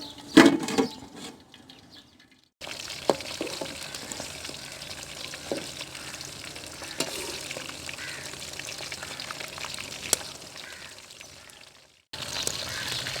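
Chicken drumsticks fry in oil in a covered pan, giving a steady, fairly loud sizzle that runs for about ten seconds, with a few clinks near the start and a short quiet gap before the sizzle returns.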